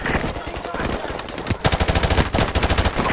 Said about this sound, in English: Jackson, use their machine gun. Get some fire on those guys!